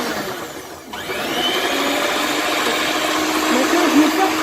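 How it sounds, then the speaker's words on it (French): An electric hand mixer whirs through cake batter for a birthday cake, a continuous close motor whine that dips briefly, then steadies and builds slightly louder, with a voice faintly underneath. "C'est bon, le batteur?"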